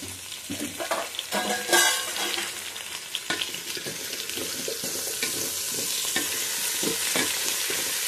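Vegetable pieces for sambar sizzle steadily in hot oil, with a constant crackling hiss and occasional stirring scrapes and taps close by.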